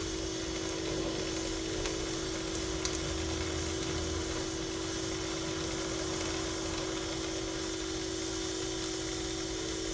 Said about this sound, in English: we're going to control this puddle strictly with heat and make a weld without the introduction of filler material